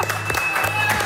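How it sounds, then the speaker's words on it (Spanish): Studio audience applause on a Spanish-language TV show, a brief burst of clapping mixed with some background voices and a faint steady electronic tone. "Un aplauso."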